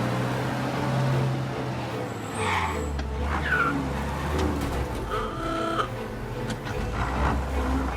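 A car driving in Mafia: Definitive Edition, with a steady low engine drone and road rumble running throughout and brief higher tonal sounds over it, moderately loud and continuous.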